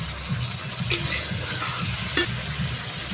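Ground spice paste fries in a pan with a constant close sizzle, broken by a couple of sharp spoon scrapes and clinks against the metal.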